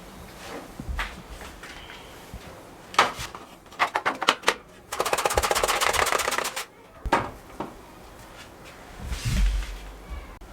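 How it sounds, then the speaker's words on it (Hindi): A knife chopping an onion on a board for a salad, crisp clustered cuts, then a rapid run of quick strokes mid-way, near and fairly loud with pauses between bursts. "प्याज को भी हम इस तरीके से काटेंगे"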